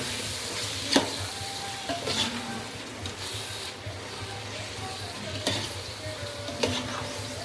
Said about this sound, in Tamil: இப்போது இதை நல்லா வதக்கிக்கலாம்.